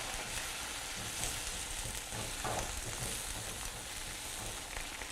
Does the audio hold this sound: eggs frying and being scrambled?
yes